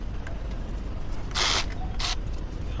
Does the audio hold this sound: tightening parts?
yes